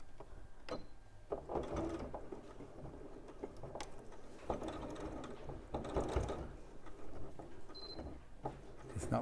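A sewing machine straining through chunky fabric, close and fairly quiet, with uneven bursts of mechanical clatter and ratcheting broken by short pauses.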